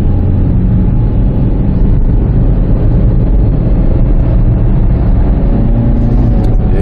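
A 2013 Chevrolet Spark's engine drones loudly and steadily as the car accelerates on the road, a continuous close-up hum from the cabin with no voices heard.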